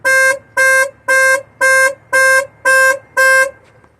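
Dodge Charger R/T car horn sounding seven short, evenly spaced, loud honks in a steady rhythm, heard close up with no talking.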